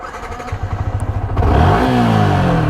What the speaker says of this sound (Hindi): मैं यहाँ पर आपको एक बार बाइक स्टार्ट करके आपको आवाज़ सुना देता हूँ